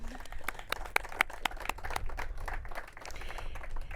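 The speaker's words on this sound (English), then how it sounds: "Let's have a round of applause." A crowd applauds at an outdoor ribbon-cutting ceremony for a water storage project, with a steady patter of clapping hands that lasts several seconds at moderate distance.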